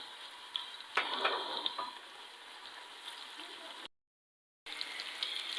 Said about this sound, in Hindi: जितनी देर ये प्याज हल्का सा फ्राई होना स्टार्ट होता है उतनी देर में हम इसमें ज़ीरा भी डाल देंगे